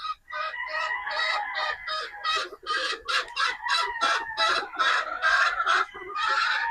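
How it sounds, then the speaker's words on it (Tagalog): Boston Roundhead gamefowl pullets give a dense, continuous run of loud, overlapping clucks and squawks from close by, with a nearly steady rhythm over several seconds and no human talk. "Yan po yung ating mga Boston Roundhead pulit."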